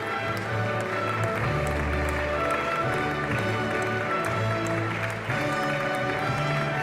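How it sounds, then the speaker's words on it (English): Steady audience applause at the European Charlemagne Youth Prize ceremony in Aachen, a continuous dense patter of many hands clapping from a large crowd, sustained at an even level with music faintly underneath. "More applause."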